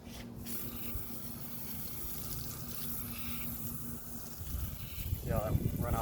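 Water spraying over a dirty car wheel during a rinse, a steady rushing hiss that swells louder toward the end.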